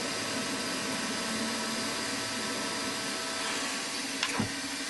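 A machine drills a 4 mm M4 hole into the face of an engine head block during a Webster engine build, producing a loud, steady whirring hum with a brief scrape near the end.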